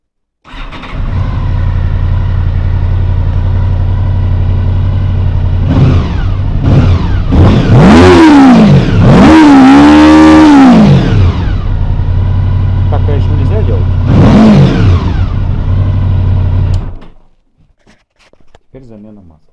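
A 2000 Honda VFR 800 motorcycle engine, warmed up after winter storage and suspected of running on only three cylinders, idles steadily and then revs in several rising and falling bursts before cutting off near the end.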